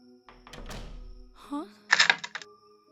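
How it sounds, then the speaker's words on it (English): A heavy chest lid thuds shut, followed by a couple of sharp metallic clicks as a lock engages, with brief murmuring beforehand. "That's the sound of a lid closing and a lock being locked."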